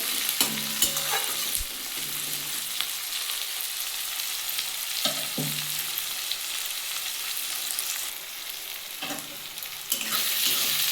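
Onion and tomato sizzle steadily in hot oil while a spoon scrapes and clinks against the pan every few seconds; no talking.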